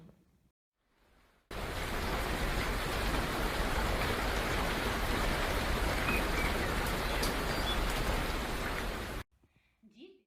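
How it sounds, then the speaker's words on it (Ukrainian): A dense, steady roar of heavy rain starts abruptly after a brief quiet, pours loudly for several seconds, then cuts off. "почалася злива, краплі падають швидше і швидше"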